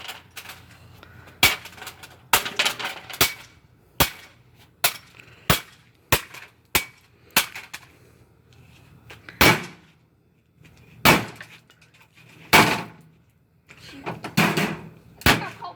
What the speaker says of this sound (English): Never smashed a washing machine in a long time.